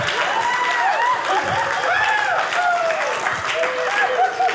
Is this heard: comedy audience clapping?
yes